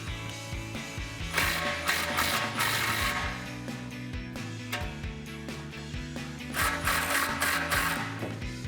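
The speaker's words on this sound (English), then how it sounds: "We're going to unbolt the tailpipes from the muffler first using a 15mm socket." A 15mm socket wrench ratchets steadily in quick clicking bursts while loosening the tailpipe clamps on the muffler of a 2009-2018 RAM 1500 stock cat-back exhaust, with no talking.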